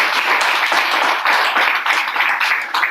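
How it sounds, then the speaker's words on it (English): Short burst of audience clapping after a talk about the direct sales industry, a dense patter of many hands, loud and near, holding steady for a few seconds with no speech. "I think that deserves a round of applause."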